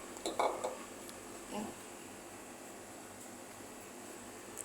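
A spoon or ladle clinks against dishes while Thai sweet dessert is scooped into bowls. Two quiet clattering bursts stand out over a low room hiss.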